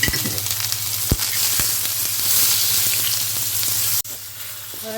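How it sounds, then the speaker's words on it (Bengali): Salted eggplant frying in oil in a home kitchen makes a loud, continuous sizzle with scattered crackles and a couple of sharp clacks. The sound briefly drops out and then resumes near the end. "বেগুনটাকে ভেজে নিচ্ছি"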